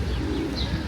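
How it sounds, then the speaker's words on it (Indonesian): Pigeons foraging in a small park in Santiago de Compostela, with soft cooing and brief chirps over a steady outdoor background hum, close by and fairly quiet. "Banyak burung mencari makan."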